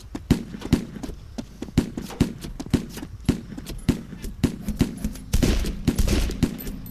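Rapid gunfire in the video game DayZ, a string of sharp evenly spaced shots about twice a second, loud and close, ending in a denser cluster of blasts.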